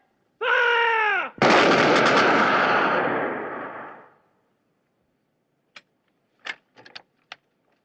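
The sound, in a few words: rifle volley gunfire in the film Zulu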